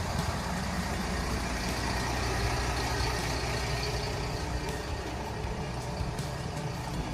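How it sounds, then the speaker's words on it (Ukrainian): A bus engine idles steadily during a driver's pre-shift inspection, a continuous low rumble with even broadband noise and no distinct knocks, heard alone without talk. "Слухаємо двигун, нема сторонніх шумів."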